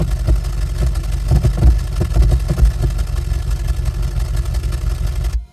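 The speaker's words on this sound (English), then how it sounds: "increasing its value will increase the occurrence of backfires" Synthesized car engine from the Revvolution plugin with backfire simulation turned up, a steady mid-pitched engine drone broken by a series of irregular popping backfires, loud and close, cutting off abruptly at the end.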